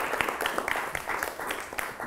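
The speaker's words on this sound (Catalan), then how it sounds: "També un fort aplaudiment." Brief applause from a studio audience on a quiz show, a short burst of scattered clapping at moderate level.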